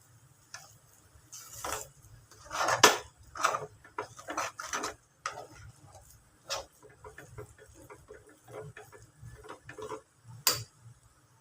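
A spoon stirring moong dal sheera in a pan, producing irregular scraping clicks and taps against the metal in uneven bursts, fairly close and alone without speech.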